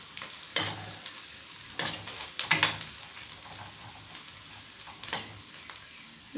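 Onion frying in a pan for a crab curry, sizzling steadily while a utensil stirs and scrapes it in scattered bursts, close and fairly quiet with no talk.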